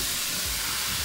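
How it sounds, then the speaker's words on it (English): Apples hit a hot pan and sizzle steadily, a dense, even hiss filling the moment without pause or talk. "We are going to start off by adding our apples to the pan"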